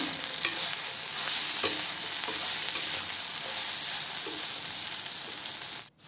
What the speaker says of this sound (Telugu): నేను మూత పెట్టి లో ఫ్లేమ్లో ఫ్రై చేసుకుంటున్నానండి